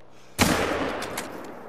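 Single hunting rifle shot in the video game theHunter: Call of the Wild, a sharp, loud crack that decays into a rolling echo lasting over a second.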